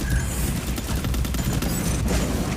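Dense, continuous video game gunfire, loud and close, rattling in rapid bursts throughout with no speech.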